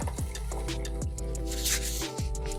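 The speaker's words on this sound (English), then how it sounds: "So I'm straining through that so it will come out just smooth without all the sediments." Turmeric and carrot juice strained through a juice bag, liquid trickling and dripping close by in a steady stream with soft wet squishes.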